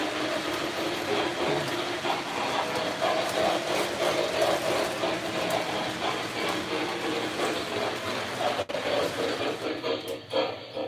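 Model train running on a layout, a Pennsylvania engine pulling a Pennsylvania bay window caboose, giving a steady close rumble and clatter of wheels and motor with a brief sharp click near the end.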